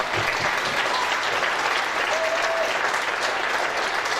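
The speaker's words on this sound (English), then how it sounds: "Can we please give both teams a great round of applause, please?" A large crowd at an under-19 Australian football grand final claps steadily and loudly throughout, a dense unbroken round of applause with a faint whistle partway through.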